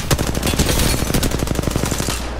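Rapid automatic weapon fire in the battle royale game Apex Legends, a loud, close stream of evenly spaced shots lasting a couple of seconds.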